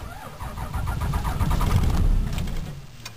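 A diesel engine with grid heaters cranks over, a loud, labored churning that swells and fades across a few seconds without catching, close to the listener.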